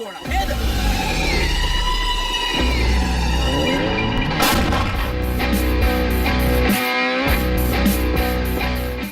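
Artillery mortar fire sound effect in a comedy episode, a loud continuous rumbling barrage of booms and rattling blasts with whistling tones and dense layered noise throughout.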